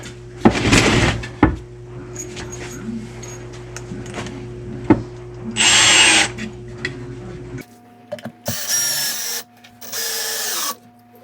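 A power drill drives screws into a wooden rabbit nesting box in short whirring bursts separated by quiet gaps, close by, with occasional knocks and clatter between runs.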